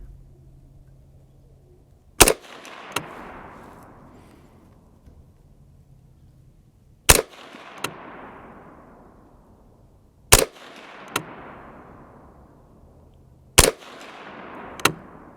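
Four sharp, loud rifle shots from a Savage A22 Magnum, spaced a few seconds apart, each followed by a quick fainter metallic clack and a short fading echo over a quiet outdoor background.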